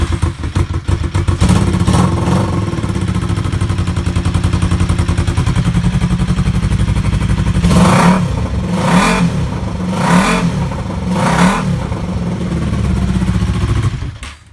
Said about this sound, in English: I'm all right with that exhaust. It's loud, it's obnoxious, but I don't think it's actually illegal.